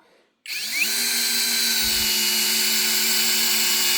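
A 12-volt cordless screwdriver starts after a brief silence and drives a 55 cm screw with a loud, steady, straining motor whine that holds to the end.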